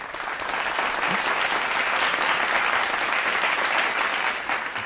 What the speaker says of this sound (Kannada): ಕೊಡ್ರಿ ಚಪ್ಪಾಳೆ.